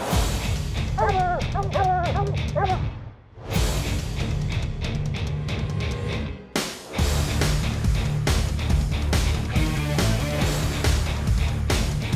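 Hunting dogs bark during a bear hunt, a pack of yips and excited bow-wows going on almost nonstop over loud background noise, with two brief drops in sound.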